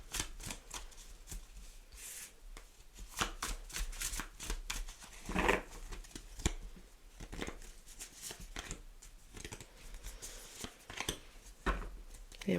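Tarot cards shuffle repeatedly by hand in a quiet room, with soft riffling and sliding flutters in bursts, close and fairly faint, with some talk between.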